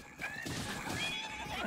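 A horse in Breath of the Wild neighs in long, wavering cries during mounted combat, with hooves and a voice talking over it.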